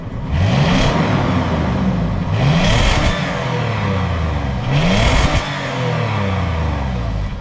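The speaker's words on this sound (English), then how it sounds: "Give her some revs." A Toyota 4Runner with a Magnaflow Overland exhaust is revved three times in quick succession, each blip rising and falling over a loud, close idle rumble, with no talking.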